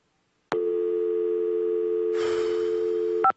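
An office telephone intercom line gives a steady electronic busy tone that holds for about three seconds, with a burst of hissy noise near the end before it cuts off abruptly.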